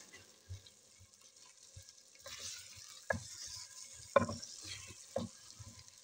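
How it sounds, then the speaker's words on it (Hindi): Cubed potatoes fry in hot oil in a home kitchen pan for an aloo methi matar dish, giving a soft steady sizzle with occasional louder stirring clatters and scrapes, no talking. "अब इनको फ्राई करूंगी क्योंकि ये गलने में ज़रा टाइम लेते हैं"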